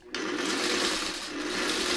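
Sewing machine stitching small quilt pieces together, a steady fast mechanical whir that starts abruptly and runs continuously, close and fairly loud with no talking.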